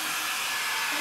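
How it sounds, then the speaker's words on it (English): A blow dryer drying a freshly picked cannabis plant in a mountain home in Svaneti, Georgia, a loud steady close-up whoosh of blowing air throughout. "So let's put the blow dryer to use"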